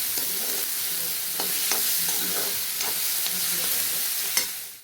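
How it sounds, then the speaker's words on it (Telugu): Chopped carrots and other vegetables are stirred in a hot frying pan for vegetable fried rice: a constant sizzle with several scraping stirs of the spatula, close and loud, with no voices. "తర్వాత క్యారెట్, ఇవి కూడా చిన్న ముక్కలుగా కట్ చేసిన, కూడా ఒకసారి కలపాల మంచిగా."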